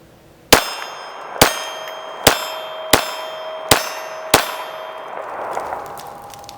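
A Glock 42 pistol in .380 ACP fires HPR full metal jacket rounds at a target about 7 yards away. Six sharp, evenly spaced reports ring out, each trailed by a lingering metallic ring, with no talking.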